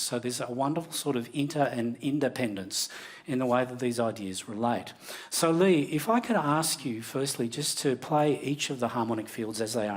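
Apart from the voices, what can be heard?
None of the usual background noises is heard.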